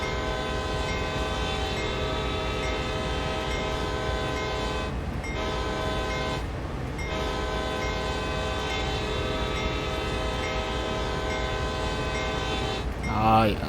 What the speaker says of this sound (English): Assuming we'll blow our horn through these.